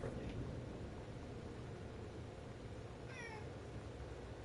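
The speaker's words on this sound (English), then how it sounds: "Yes, you're a meow cat." A cat lets out a faint meow over steady background hiss, the short call rising and wavering near the end.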